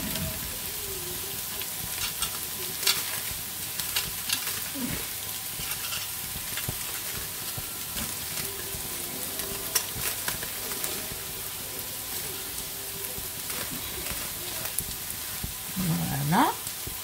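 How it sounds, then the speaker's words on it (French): Shallots and garlic fry in a pan with a steady, fine crackling sizzle, broken by occasional stirring scrapes and a brief voice near the end. "des échalotes et de l'ail, ça cuit assez rapidement"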